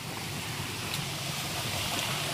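Steady, broadband rush of a jungle waterfall, continuous and fairly distant, with no voices.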